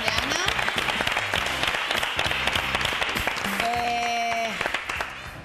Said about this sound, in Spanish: vamos a aplaudir la decisión de Ana